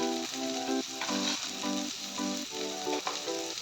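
Garlic and ginger fry with turmeric and salt in hot oil, making a bright, continuous sizzle close up, broken by short bursts of stirring and scraping in the pan, with no talking.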